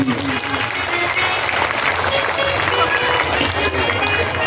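Loud, steady applause from an audience at a Bhagavat Katha religious discourse festival, continuous clapping that fills the whole stretch, with some faint voices mixed in.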